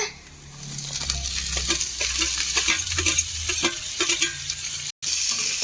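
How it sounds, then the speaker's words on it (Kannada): Chopped onion and tomato fry in a hot pan for a Karnataka-style bread masala while a spoon stirs and scrapes through them, a close continuous sizzle with rhythmic scraping and one brief dropout near the end. "ಚೆನ್ನಾಗಿ ಈ ತರ ಹುರ್ಕೊಳ್ಳೋಣಂತೆ"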